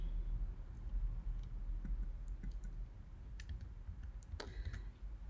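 Light, faint clicks of keys being typed on a computer keyboard while writing code, scattered taps over a low steady background hum, no speech.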